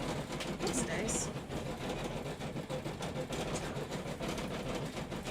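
An embroidery machine stitching holiday bunting runs in a fast, steady mechanical patter, close and continuous, with faint voices in the background.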